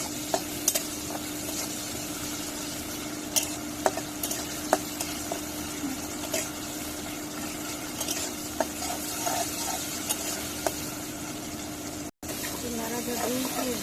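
Sliced onions fry in a pan with a spoonful of salt while a spoon stirs them, giving a steady close sizzle with frequent scraping clicks throughout.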